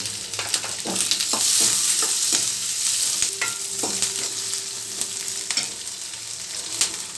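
Pepper, cumin, dry coconut and tomato frying in a pan, a steady loud sizzle with scraping stirs and occasional clinks of a spoon against the pan throughout, close by, no talking.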